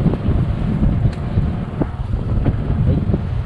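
Strong wind buffets the microphone in a steady, loud, rumbling roar throughout, recorded while riding a secondhand Honda XRM 125 carburetor-type motorcycle outdoors near rivers and farmland.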